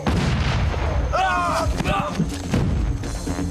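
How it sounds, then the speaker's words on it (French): Cartoon cannon fire from ships shooting at the characters, a sustained loud rumble of booming blasts, with a voice calling out briefly over the barrage. "Mais ils sont devenus fous, ils nous tirent dessus."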